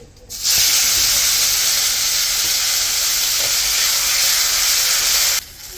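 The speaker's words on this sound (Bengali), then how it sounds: "পুরোনো জিরা শুকনো লঙ্কা দিয়ে আর গোটা জিরা দিলাম। সাথে আদা বাটা, জিরা বাটা দিয়ে দিলাম।" Whole cumin, dried chili, ginger paste and cumin paste hit hot oil with a sudden loud, steady hissing sizzle that holds for about five seconds, then drops away, with no voices.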